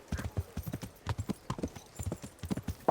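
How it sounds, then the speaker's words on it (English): A horse clip-clops in Kingdom Come: Deliverance, its hooves landing in a quick, steady trotting rhythm at moderate volume, close by and without talk. "Así que voy a llamar a mi caballo"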